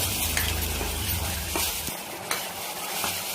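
Spices and chickpeas sauté in a pan for a vegetable thali dish, with steady sizzling and occasional stirring scrapes and clinks of a utensil against the pan, close and continuous with no talk.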